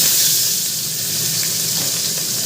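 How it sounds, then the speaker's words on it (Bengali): Fish frying in mustard oil in a kadai, with leftover bits of fried potato in the oil, gives a steady, loud, even sizzle and hiss that lasts throughout, with a kitchen chimney fan running. "আমি কড়ায় সর্ষের তেল দিয়ে দিয়েছি তো এটা আগের দিন আলু ভাজা হয়েছিল তাই একটু আলু ফালু আছে তেলের মধ্যে তো এই তেলেই মাছটা ভেজে নেব"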